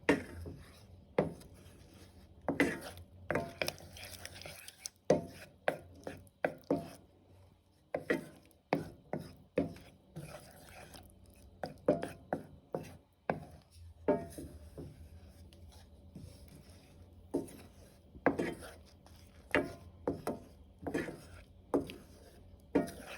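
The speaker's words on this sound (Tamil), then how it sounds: "இதை நான் நல்லா மிக்ஸ் பண்ணுறேன்" Spoon scraping and knocking against a pan while tomato paste, onion and vegetables are stirred for a creamy veg kadai, a steady series of close, sharp taps and scrapes with no talking.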